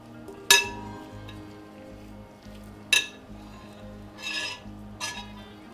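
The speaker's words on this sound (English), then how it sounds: "this last one's a little harder to get everything off, so I'm going to switch to my spatula here" A spatula scraping cheese ball mixture out of a bowl, with two sharp clinks against the bowl followed by softer scraping strokes, close and quiet with no speech.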